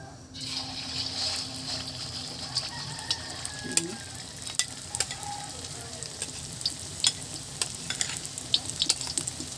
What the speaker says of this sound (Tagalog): Tapos ay magprito na tayo.